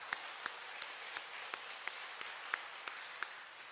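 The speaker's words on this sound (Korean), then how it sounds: "박수로 한번 격려해 주세요." A church congregation claps in encouragement at a Sunday afternoon service, a soft, sparse clapping with distinct individual claps spaced roughly evenly over a faint background, quiet and distant.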